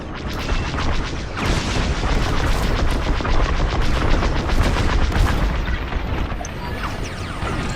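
Starfighter weapons fire in the Star Wars Squadrons video game, a loud continuous barrage of rapid laser blasts and booming impacts, dense and close throughout.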